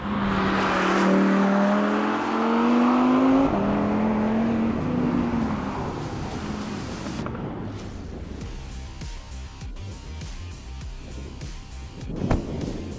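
A high-revving Audi R8 V10 engine climbs steadily in pitch to a screaming peak near its 8,700 RPM redline, then drops off into a rumbling idle, loud and close.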